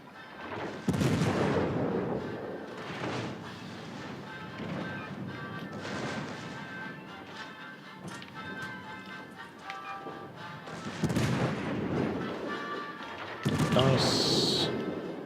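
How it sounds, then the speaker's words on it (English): Warship guns booming in World of Warships: Legends, a few heavy blasts spread apart with rumbling tails and crashing impacts, loud and close, over a murky battle background. "she's firing at me"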